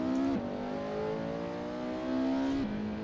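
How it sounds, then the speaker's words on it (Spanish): Engine of a Porsche 918 Spyder in Assetto Corsa, the official in-game car: a steady, loud high-revving drone with clear rising pitch and two sharp shifts or lifts, heard close and alone. "Hay que admitir que el coche suena muy bien"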